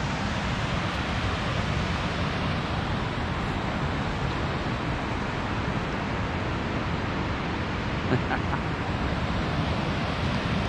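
Rushing creek water roars steadily through the upper gorge of a park, a dense, continuous broadband wash with no pauses, loud and close throughout.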